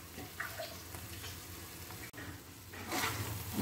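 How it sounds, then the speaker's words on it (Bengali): Masala with sour yogurt for a brinjal dish is fried and stirred in a pan, giving a soft, steady sizzle with faint scraping, close but quiet, swelling slightly louder toward the end. "এবার টক দই দিয়ে ভালো করে এটাকে আমি আবার কষাবো"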